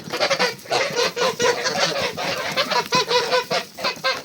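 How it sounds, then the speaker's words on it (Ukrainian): A flock of geese honking repeatedly and loudly, overlapping calls close by with no pauses. "Гусі мої гусі."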